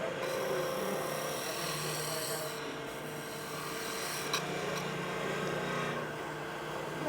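Spindle gouge taking small, light cuts in spinning wood on a lathe: a steady continuous rasping hiss with a low motor hum beneath, fairly close and even throughout, no talking.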